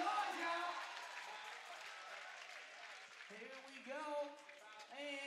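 A crowd at a FIBA 3x3 World Cup 2017 dunk contest cheers and applauds through the whole moment, and a commentator talks over the noise.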